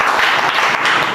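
Quick, loud clapping from a classroom of students cheering a classmate during a class 10 maths lesson, a dense, rapid patter of hands close by with no voices.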